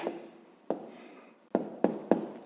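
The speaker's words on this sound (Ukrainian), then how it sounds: "Ну що ж, записуємо тоді відповідь." A pen writes an answer in a notebook, with a scratchy first stroke followed by several short, crisp strokes and taps, close and clear in a quiet room.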